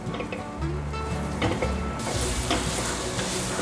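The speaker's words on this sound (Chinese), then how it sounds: "把姜末先炒香" Minced ginger sizzles in a little sesame oil in a wok, a continuous close frying hiss broken by scraping stir strokes, with no talking.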